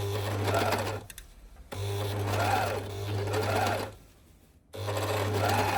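A serger (overlocker) sewing machine stitches in steady whirring runs with a buzzing mechanical hum, stopping briefly twice between bursts.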